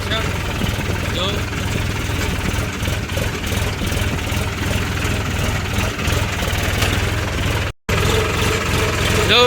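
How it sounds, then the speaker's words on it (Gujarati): A farm tractor engine idles and runs steadily while the tractor drives on GPS auto steering over an untilled field, a continuous low mechanical drone with a brief dropout near the end. "થઈ ગયું આપણું ટ્રેક્ટર ચાલુ।"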